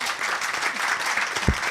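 An audience at a youth forum claps, a dense, even patter of many hands filling the short stretch with no break.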